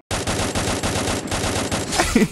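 Rapid automatic gunfire from the Free Fire battle-royale video game, a dense continuous burst of shots lasting about two seconds, loud and close, ending in a harsher burst of impacts.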